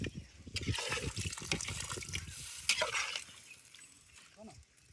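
Water is poured and splashes into a pot while Goan-style biryani is cooked with friends, a steady close trickling gush with a few faint voices in the background.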